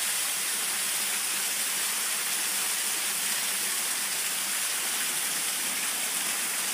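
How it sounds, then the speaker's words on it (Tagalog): The Naglusong waterfall flowing strongly, a steady broadband rushing roar of falling water, constant and fairly distant with no voices over it. "So ito na siya guys, yung falls sa Naglusong"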